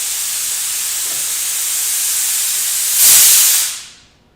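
A burst of compressed air hisses steadily for about three seconds, swelling louder near the end before cutting off into silence; no one talks.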